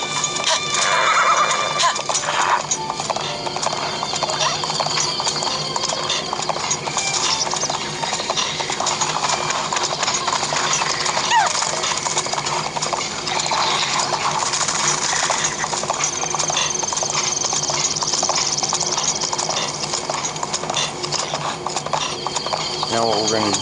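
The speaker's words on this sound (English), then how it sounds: "I'm going to leave my horse there" A horse in The Legend of Zelda: Breath of the Wild whinnies and its hooves clip-clop steadily throughout, sitting under a constant layer of game music and ambience with some mechanical ratcheting.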